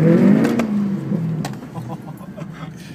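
A Vauxhall VXR8 accelerating hard, its loud, close engine note dropping in pitch as it shifts, then droning on steadily.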